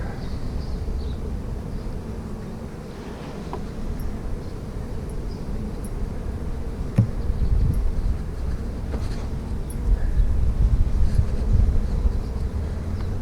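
A steady, dense hum of many honeybees buzzing around a hive outdoors during a spring inspection, with a low rumble of wind underneath and no voices.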